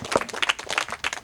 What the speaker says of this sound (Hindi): ताली दिखा दो लोगों का